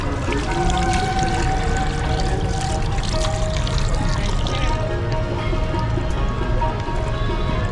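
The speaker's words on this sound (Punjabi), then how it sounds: "ਹੱਥ ਧੋ ਲਈਏ ਆਪਾਂ" Water pours steadily from a tap as hands are washed at the entrance to a gurdwara, a continuous splashing rush with no pauses and faint background activity around it.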